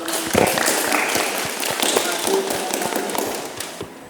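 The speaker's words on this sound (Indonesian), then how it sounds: "Kita berikan tepuk tangan untuk teman." Students in a vocational automotive class applaud a presenting group. Dense clapping runs throughout and fades toward the end, with voices mixed in.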